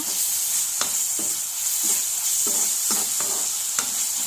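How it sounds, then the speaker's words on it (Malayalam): Tomatoes are sautéed in a pan while preparing prawns kothu chapathi. A bright constant sizzle runs underneath, and a spatula stirs in a regular rhythm of about eight scrapes. "നമ്മൾ തക്കാളി ഇട്ട് കഴിഞ്ഞിട്ട് നന്നായിട്ട് വഴറ്റി കൊടുക്കുക."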